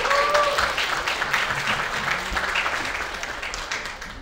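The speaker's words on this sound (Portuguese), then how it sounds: "Uma salva de palmas!" An audience at the opening of WordCamp Rio de Janeiro 2024 breaks into applause as a speaker is called to the stage, a moderately loud clapping that starts strong with a brief whistle and gradually thins out.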